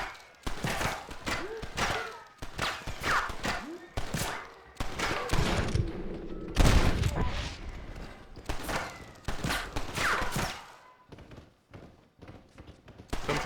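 Gunfire in Red Dead Redemption, irregular sharp cracks and thuds scattered through the scene, some bunched and some spaced out, with a heavy low rumble in the middle and talk over parts of it.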